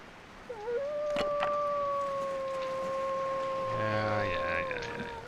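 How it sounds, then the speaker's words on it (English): A wolf in the video game The Long Dark lets out a long, steady howl that holds one pitch for several seconds, loud and fairly near, with a brief voice-like sound near the end. "is that a wolf or a deer? It's a wolf."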